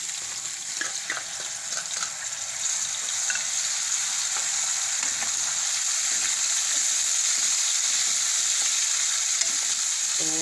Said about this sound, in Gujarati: તો હવે આપણે એમાં ટમેટાં નાખી દેવું.